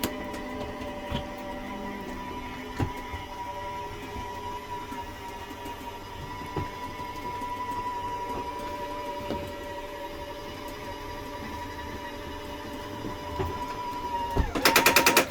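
A steady electric motor hum from a 2017 Sunseeker 2500TS RV's main dining slide-out extending drones for several seconds at low volume, ending with a burst of louder mechanical clicking.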